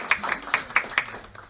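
Small audience at an investing event for contractors breaking into brief light applause, a handful of distinct claps in a short burst that fades quickly.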